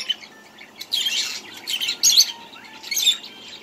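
Pet birds at home chirp and tweet in short bursts, several bright calls spaced irregularly over a quiet background, fairly close and moderately loud with no talking.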